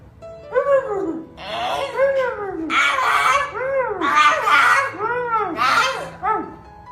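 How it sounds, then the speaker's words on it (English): An excited dog greeting its owner after a long separation, with close, loud, rising whimpers, whines and yips in a rapid stream of wavering cries, and a voice mixed in. "The dog seems to be saying that it has really missed him"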